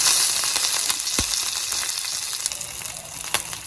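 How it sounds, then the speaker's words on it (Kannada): Cumin seeds, urad dal, chana dal and curry leaves fry in hot oil for a mango chitranna tempering, giving a steady close sizzle with a few sharp crackles and pops throughout. "ಸ್ವಲ್ಪ ಜೀರಿಗೆ ಹಾಕ್ತೀನಿ, ಉದ್ದಿನಬೇಳೆ 1 ಸ್ಪೂನ್ ಹಾಕ್ತೀನಿ, ಕಡಲೆಬೇಳೆ 1 ಸ್ಪೂನ್ ಹಾಕ್ತೀನಿ, ಮತ್ತು ಕರಿಬೇವು ಸೊಪ್ಪು ಚೂರು ಹಾಕ್ತೀನಿ"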